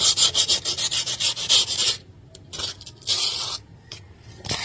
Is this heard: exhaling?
no